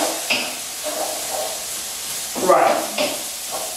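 Vegetables sizzle and hiss as they are stirred around a hot pan or wok, a steady soft frying noise with a brief louder scrape partway through, under someone talking.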